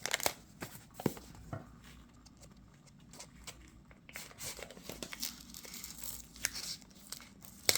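Stickers being peeled off a tarot deck box, quiet close-up tearing and crinkling with scattered sharp rips and soft rustles, no talking.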